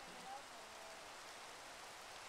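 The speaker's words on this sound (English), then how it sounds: "It's raining." Steady, even rain hisses in a swamp inside a video game, a constant wash of falling drops that holds level throughout.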